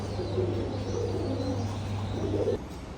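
Naira Chila pigeons coo softly in a breeding loft, low repeated cooing under a steady background hum, fairly close and continuous.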